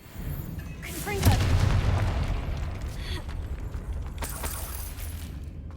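A Confringo blasting spell bursts in Hogwarts Legacy with a sharp crack and a deep booming rumble that swells and then lingers as a long rolling tail, fairly loud, followed by fainter crackling debris.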